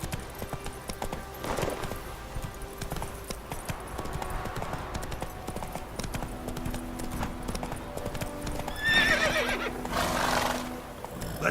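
Roach, the horse in The Witcher 3, gallops with close, rhythmic hoofbeats, then lets out a loud neigh near the end, with game music and brief speech beneath.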